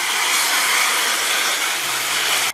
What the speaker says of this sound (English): So I'm gonna start by rinsing it out with my hose